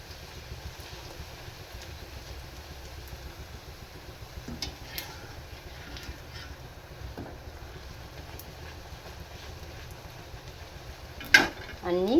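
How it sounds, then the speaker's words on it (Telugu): Puri made from leftover rice frying in hot oil gives a steady, soft, close sizzle and bubbling hiss throughout, with a brief clatter near the end. "చూడండి మరొక పూరి అయితే కాల్చేస్తున్నాను"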